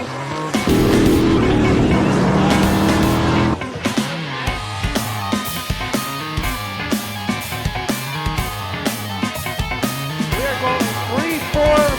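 Pure Stock race cars thundering around Vado Speedway Park dirt oval at the green flag, a loud continuous engine roar from a packed field with rising and falling revs, tire noise and crowd din throughout.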